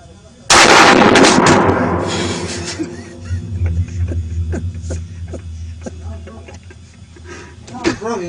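Gunfire at an outdoor gun test: one loud close shot rings out and fades slowly, followed by several smaller pops and knocks while someone talks.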